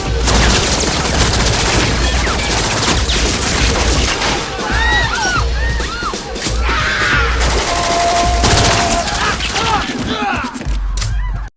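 Rapid-fire weapon mowing down targets in a sustained, dense wall of shots, loud and close, with crashing impacts and ringing debris throughout.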